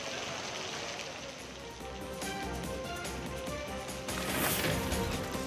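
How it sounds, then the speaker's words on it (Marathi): Heavy monsoon rain pours down in Palghar, Maharashtra, a dense steady hiss of drops on surfaces that swells louder toward the end, with no talk over it. "पालघरमध्ये पावसानं दमदार हजेरी लावली."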